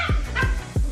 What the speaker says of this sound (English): excuse my dogs because they are playing in the background.